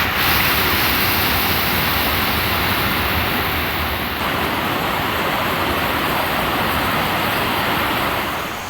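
Kumbakkarai waterfall in flash flood after heavy rain: a loud, continuous roar of rushing, crashing water that stays dense and even from start to finish, with no voices.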